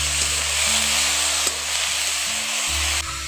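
Cabbage and potatoes being sautéed together in a pan give a steady, close sizzle over a low hum, with a few faint stirring knocks and no talking.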